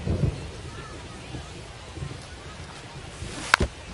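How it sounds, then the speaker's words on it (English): Steady rain pours down in an MLB baseball video game, a broad wash of hiss under a low rumble of thunder, with a brief sharp crack near the end. "We'll see how well the field holds up with the way the rain is coming down."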